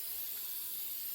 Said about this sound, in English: We're spraying now.